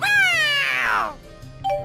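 A cat meows once, loud and close, a long descending cry in the video game Tales of Xillia 2, followed by a brief quieter chirp near the end.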